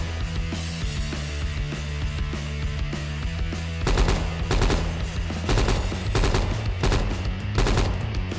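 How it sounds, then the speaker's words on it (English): An AK-74 rifle in a video game firing in burst mode, with short clustered bursts of sharp shots over a steady low hum, the bursts growing louder and denser in the second half, no speech. "Picking up an AK-74. As usual with a Kalashnikov, we can switch between three fire modes: single, burst and full auto. Currently using burst fire."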